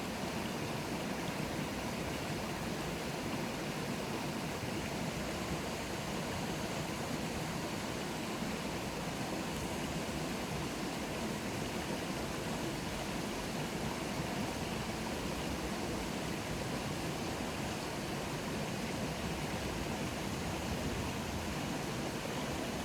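A creek along the Pacific Crest Trail in Washington flows with a constant close rushing wash of water, steady and even with no breaks.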